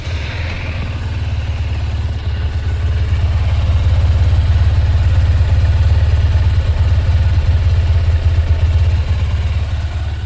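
Honda NX200 motorcycle idling with about 30,000 km on it, its exhaust giving a steady, loud low rumble that runs without break for ten seconds, close to the bike, with no talking.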